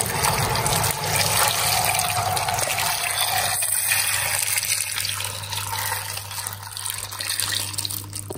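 Boiling water pours steadily into a cooking pot of stuffed cucumbers and rice, a continuous loud gush and splash lasting several seconds over a low hum, with no talking.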